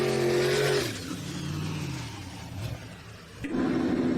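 A drag racing car makes its run at the Sick Summer 2024 event: a loud engine roar drops away as the throttle eases off, then swells back up near the end.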